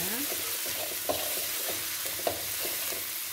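Ground spice paste for prawn-filled potato curry puffs sizzles and crackles in hot oil over medium heat, with occasional scraping of a spoon stirring the pan, close and continuous.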